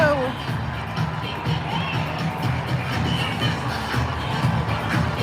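A large crowd at a rally in the Target Center arena standing and cheering: a dense, continuous roar of shouts and whoops filling the space, with nearby voices talking over it.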